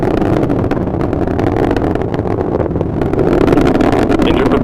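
An Atlas V rocket launch carrying MUOS-2 as the vehicle throttles back up: a loud, steady, rumbling roar of engines fills the clip without a break.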